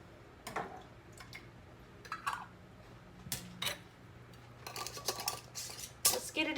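Glass canning jars set into a Presto pressure canner, sharp clinks and clatters of glass on metal, several irregular knocks spread out, close and clear with no talk.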